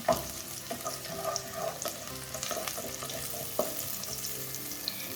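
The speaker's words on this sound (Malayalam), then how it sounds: "ബ്രൗൺ കളർ ആവണ്ട, ചെറുതായിട്ടൊന്ന് വഴറ്റിയെടുക്കാം." Sautéing in a pan for Kerala-style red cowpea thoran, a continuous close sizzle with scattered light clinks and stirring scrapes throughout.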